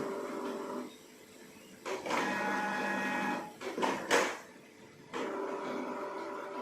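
A Canon Pixma iP2770 inkjet printer runs its print-head cleaning cycle, with several bursts of whirring motor and mechanical shuffling separated by quieter pauses, close and moderately loud, with no talking.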